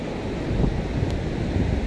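Surf rolling in at the mouth of the Moeraki River where it meets the sea, a steady broadband wash with wind buffeting the microphone, no voices.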